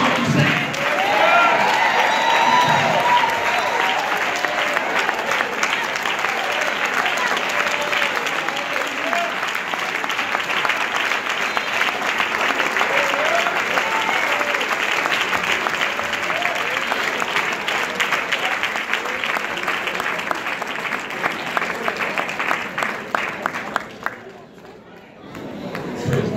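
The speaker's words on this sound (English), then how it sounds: "Just another hand clap" A church congregation applauds and cheers at a pastor's installation service, loud, sustained clapping with shouts and crowd chatter mixed in, carrying on for over twenty seconds before dropping away abruptly.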